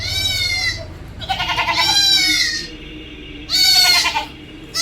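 A large Malabari mother goat and her two male kids bleat in three loud, wavering calls with short gaps between them, close by.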